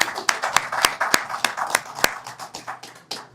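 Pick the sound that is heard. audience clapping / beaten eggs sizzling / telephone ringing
audience clapping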